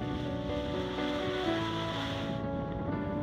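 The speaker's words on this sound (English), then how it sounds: "we have a nice breeze for our test sail in the Baltic" Wind and breaking waves around a Delphia 46 yacht under sail in a chilly Baltic breeze, a steady broadband rush with wind buffeting the microphone, continuous and fairly loud with no talking.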